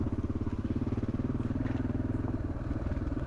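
Motorcycle engine pulling up a mountain road above 2000 metres in Morocco, a close, loud, steady throbbing exhaust pulse with a rapid regular beat and no talk over it.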